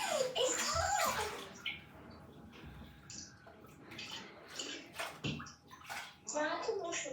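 Squishy toys get washed in bathtub water, with sloshing and splashing close by, while children talk over it throughout.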